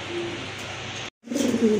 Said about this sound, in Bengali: আরেক জোড়া কবুতর দেখেন, একদম ফুল ফ্রেশ আর অ্যাক্টিভ কবুতর